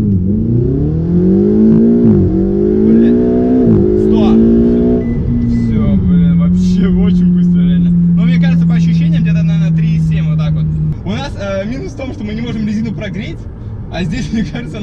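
A sports car revs hard through rising gears on a hot asphalt test run, the engine climbing loudly and close before settling into a steady drone, with someone talking over the later part.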